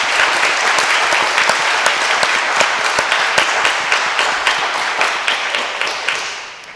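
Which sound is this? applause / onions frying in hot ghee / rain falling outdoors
applause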